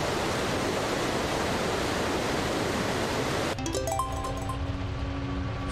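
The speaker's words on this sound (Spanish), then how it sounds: "Vale, paramos la fuente de agua." A water fountain in the video game Eternal Edge rushes as a loud, steady wash of water, then cuts off abruptly, leaving soft tonal game music.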